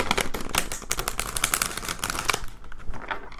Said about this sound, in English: So hard to shuffle this deck.